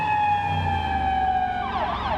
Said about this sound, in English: an ambulance just went by